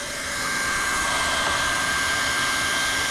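A heat gun blowing hot air onto a TPO roofing patch to tack it down makes a steady, loud, close whooshing roar that holds without a break.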